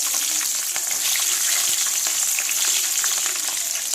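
Green chillies fry in hot oil in a pan, giving a steady, close, even sizzle with small crackles throughout and no talking.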